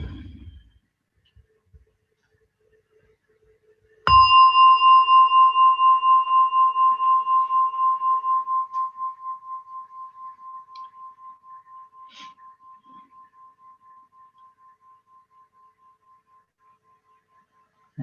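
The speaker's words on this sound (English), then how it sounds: "Okay, let me grab a gong." A meditation gong is struck once after a near-silent stretch; its bright, ringing tone swells at once and then fades slowly over more than ten seconds, heard alone and clear.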